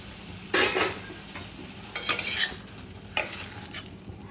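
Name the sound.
fried jackfruit and potato stirred into sizzling spice paste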